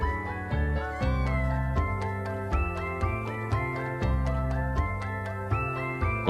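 A young domestic cat about eight weeks old meows repeatedly in short, fairly loud cries, set against a steady tonal background with a regular rhythm.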